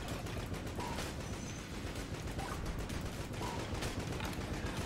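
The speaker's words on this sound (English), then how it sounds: "I just really wish those explosions would stop" In the video game Enter the Gungeon, explosions and gunfire crackle nonstop, a dense, rapid stream of bursts that runs without any pause.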